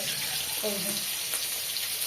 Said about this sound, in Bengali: একটু পানি দিচ্ছি, আর পানি দেবো না